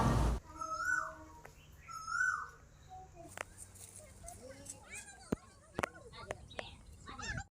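Pigeons at a temple give a few soft, close cooing calls in the first seconds, then people talk over faint background noise.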